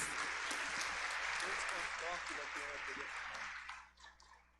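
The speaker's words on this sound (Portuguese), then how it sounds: "Manifestemos nossa gratidão com uma calorosa salva de palmas de boas-vindas." A warm welcoming round of applause from the congregation at a church festival novena, dense crowd clapping that holds steady and then tapers off toward the end, with voices mixed in.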